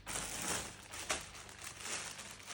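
Plastic package bags crinkle and rustle as they are handled, giving close, continuous crackling with a sharper crunch near the middle and no talking.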